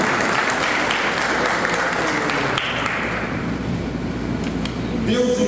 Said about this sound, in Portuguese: Só os vencedores aplaudam o Senhor nesta noite.